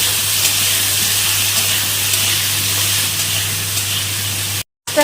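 Cauliflower fries in hot oil with salt and turmeric, a steady close hiss of sizzling over a low hum that continues unbroken and then drops out briefly at the end.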